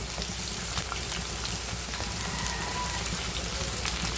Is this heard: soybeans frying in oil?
yes